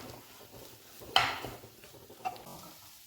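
Curry with curry leaves is stirred in a pot, with a spoon giving a sharp metallic clink and a softer knock later over a low background hum, close by and without talk.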